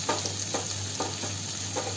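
Chopped onion frying in a pan for an Indian bhindi sabzi, with a steady close sizzle and soft periodic stirring scrapes over a low hum.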